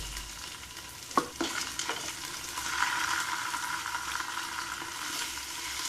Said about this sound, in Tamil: இஞ்சி பூண்டு பேஸ்ட்டோட பச்சை வாடை போகிற வரைக்கும் நல்லா வதக்கிக்கோங்க.